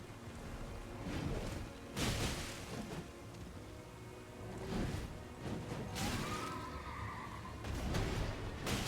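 An Elden Ring horse enemy neighs amid loud combat whooshes and impacts, a whinny rising near the end over continuous battle noise, with no talking.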